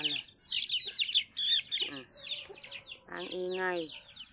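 Chickens fight noisily at close range, with a busy stream of overlapping squawks, clucks and cackles.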